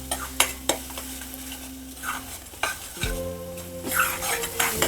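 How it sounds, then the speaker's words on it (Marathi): Tomato sautés in a pan for egg curry while being stirred, bright sizzling broken by sharp clinks and scrapes of the spoon against the pan, with a low tonal hum running underneath. "आता हा टोमॅटो छान एक दोन तीन मिनटं परतला"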